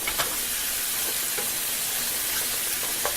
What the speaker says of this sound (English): Now I have all of my mushrooms in. I'm going to saute these for about 3 to 5 minutes.